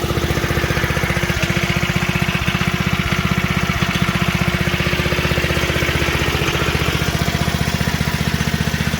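Old-school flathead engine on a Montgomery Ward VT525 mini bike idling steadily, a loud, close, even rapid putter that continues without break.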